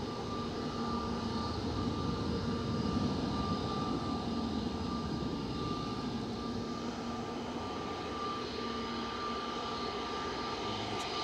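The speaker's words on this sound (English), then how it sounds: "And there's the Ryanair just landed from Barcelona" A Ryanair Boeing 737-800 landing at Manchester Airport produces a steady, distant engine roar and rumble with a faint whine, continuous and unchanging throughout, with no talking.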